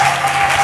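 A church congregation claps and cheers in a dense, loud, continuous burst of applause, with a sustained tone running underneath.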